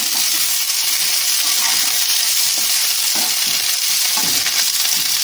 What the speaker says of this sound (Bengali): এবার হলুদ দিই নেড়ে দিতে হবে